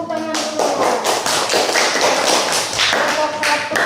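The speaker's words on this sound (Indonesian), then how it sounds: "Tepuk tangan dulu." A classroom group claps together after a group finishes its presentation, a dense, sustained patter of many hands lasting the whole stretch with a few louder surges, loud and close.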